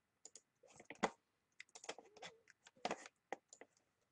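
Close, fairly quiet bursts of computer keyboard typing and clicking come in uneven clusters with short gaps, heard alone with no talking.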